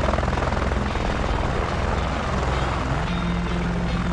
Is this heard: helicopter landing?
yes